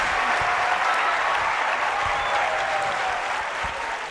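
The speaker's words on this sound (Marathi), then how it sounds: "जोरदार टाळ्या या सर्वांसाठी" Sustained audience applause at a Marathi stage event's closing, dense steady clapping from a crowd filling the whole stretch without pause, loud and even throughout.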